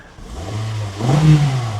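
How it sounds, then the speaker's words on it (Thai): A 2014 Toyota Corolla Altis 1.8 E TRD engine runs at a steady idle, a low even hum that swells briefly in the middle, heard up close with no talking. "เครื่องยนต์ก็รอบนิ่งๆฮะไม่มีสวิงไม่มีกระพือนะครับ"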